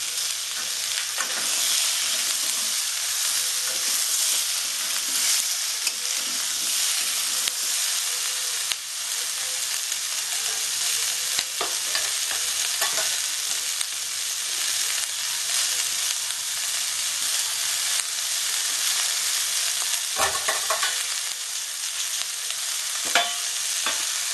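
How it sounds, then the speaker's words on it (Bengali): Green chillies, onions and vegetable stalks sizzle steadily in hot oil in a pan for a Bengali rui fish curry, a dense continuous frying hiss with occasional stirring scrapes and clinks, close and alone. "সবগুলো একসাথে আমি কষতে থাকবো"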